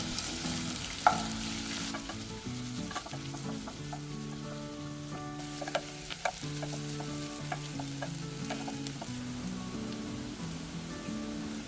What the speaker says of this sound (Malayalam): ഒരു സവോള ചെറുതായിട്ട് സ്ലൈസ് ചെയ്ത് ഇതിലേക്ക് ചേർത്ത് നന്നായിട്ട് ഇളക്കി വഴറ്റിയെടുക്കുക